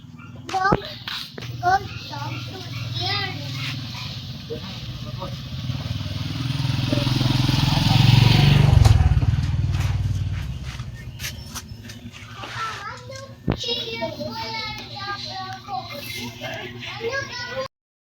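A motorcycle passes nearby during a bike ride, its engine building to a loud peak mid-clip and then fading away, with children talking before and after it.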